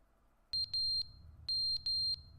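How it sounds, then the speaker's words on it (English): A smoke detector in a building sounds two bursts of sharp, high electronic beeps, each a quick group of three to four shrill chirps, loud and close over a low background hum. "There's a smoke detector going off in here."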